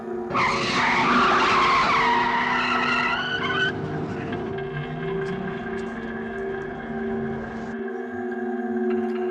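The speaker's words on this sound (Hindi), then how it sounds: "ना चाहते हुए भी सुनील को गाड़ी रोकना ही पड़ा" A car's tires screech in a loud, harsh skid for a few seconds, then the squeal fades into a steady engine hum and idling.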